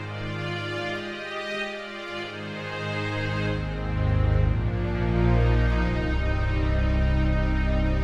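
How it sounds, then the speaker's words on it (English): A new string sound patch played on a Casio Privia PX-5S digital piano, sustained layered tones that swell and grow fuller and louder partway through, heard alone without talk. "I posted per request a new string sound"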